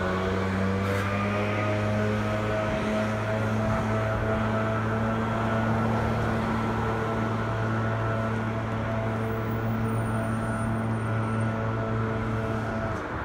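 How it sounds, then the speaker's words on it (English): Loud leaf blowers drone steadily outdoors near a street intersection, a constant motor whine with sustained engine tones that holds at full strength throughout with no break and no talking. "I hate those blowers, they're so loud."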